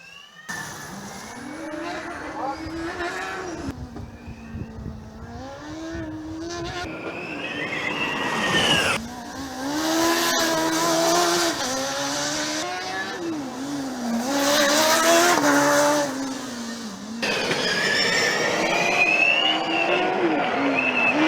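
Formula Student race cars lapping during an endurance event, engines rising and falling as they pass and shift, with some tire squeal, loud and continuous throughout.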